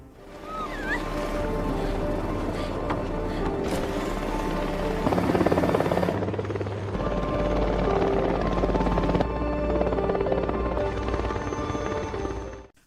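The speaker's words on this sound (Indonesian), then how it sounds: "satu helikopter PBB pun tiba untuk mengevakuasi mereka" A helicopter's rotor thumps and engine whine hold steady and loud throughout, with no voices.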